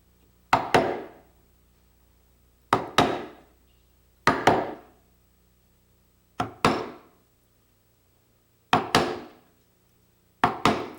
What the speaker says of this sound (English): Put the chisel just before the marking gauge line and tap it